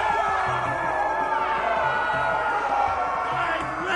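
Video game arena crowd in Game of Thrones, a steady loud roar of cheering and shouting that sustains throughout without break.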